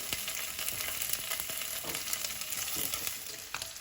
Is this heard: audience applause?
no